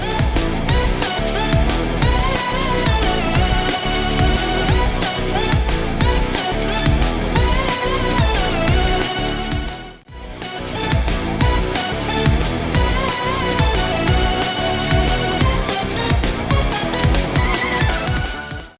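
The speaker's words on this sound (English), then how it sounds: "And if you lower the pitch of the song, it starts to sound like this." The Pizza Tower track played pitched down, a loud, dense, driving electronic song with steady pounding beats and a brief dropout around the midpoint.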